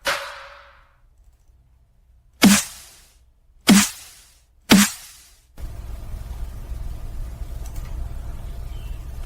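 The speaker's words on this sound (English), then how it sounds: "This is the snare for dubstep." Four separate punchy snare hits from an FL Studio dubstep kit crack out with short decaying tails, the first longer and tonal, followed by a low steady noise bed.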